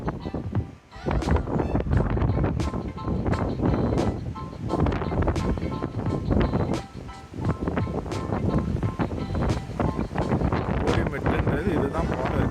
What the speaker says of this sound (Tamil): நிற்க முடியல என்னால். சரியான காத்து.